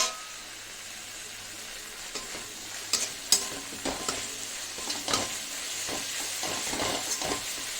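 Chilli-garlic paste and spices being stirred in a hot pan for a fish chorchori, with a steady frying sizzle and scattered scraping spoon strokes, close and fairly loud, no talk.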